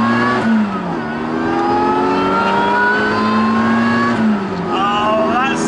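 Supercharged classic Mini making about 160 bhp revs hard close by, its engine note climbing and holding in long rising sweeps with a brief dip near the end, loud and dominant under faint talk.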